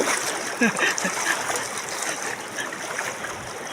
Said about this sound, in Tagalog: yung tubig dito napakalamig, parang may yelo